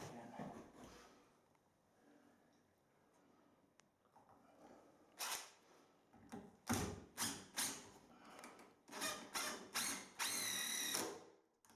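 A power drill drives six-inch hex head screws into wood decking boards while a gate is built, several short loud bursts of whirring spin, close by, separated by brief pauses with quieter handling sounds before them.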